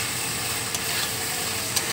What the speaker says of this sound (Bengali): এবার দেখো আমি ঘি দিয়ে দিচ্ছি 1 চামচের মতন।